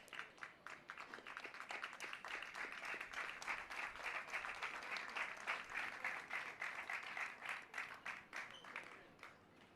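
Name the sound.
crowd clapping at a baseball game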